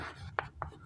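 Chalk or marker strokes from a teacher writing the next point on a classroom board during a Hindi history lesson: two short, scratchy strokes close by, with quiet room tone between them.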